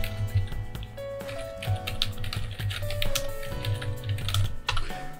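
Typing on a computer keyboard at a Linux desktop while switching to Japanese input: a close, steady stream of quick plastic key clicks with irregular rhythm and no speech.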